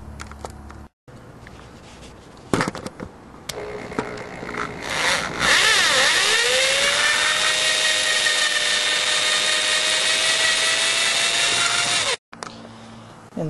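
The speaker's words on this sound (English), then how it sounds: "So I'm going to drill this out" A power drill whirs in short bursts, then runs steadily at a high whine for several seconds as it drills out a metal rivet on a 1987 Nissan 300ZX hood, stopping abruptly.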